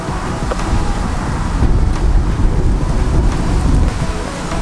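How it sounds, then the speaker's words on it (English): Strong wind buffeting outdoors, a loud continuous roar with gusty surges and microphone rumble, no voices heard over it. "It's so windy."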